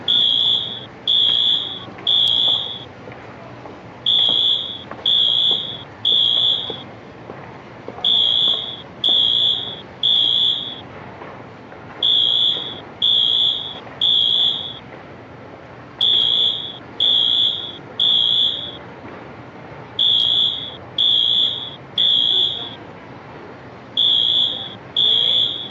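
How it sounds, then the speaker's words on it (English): Fire alarms sound in repeated bursts of three shrill, piercing beeps, each group separated by a short pause, continuing steadily and loud throughout. "I'm going to walk around and look at the different fire alarms. I think these alarms are really cool."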